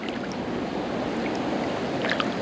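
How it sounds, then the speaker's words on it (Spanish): A river in Granada, Spain, rushing with growing force, a continuous loud hiss of flowing water with a few brief splashes and trickles toward the end. "aquí ya veo que está agarrando un poquito más de fuerza el río"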